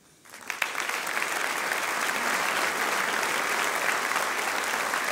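An audience at a regional awards ceremony bursts into sustained applause, starting abruptly and settling into a dense, even roar of clapping hands from a large crowd, with no voices standing out.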